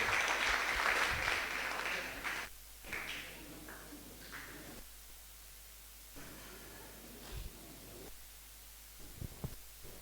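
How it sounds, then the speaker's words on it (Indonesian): Applause from a seminar audience for a speaker at a university engineering faculty event, a brief burst of clapping that fades quickly into quiet room hum and scattered small noises. "Mari kita beri aplaus kepada Bapak."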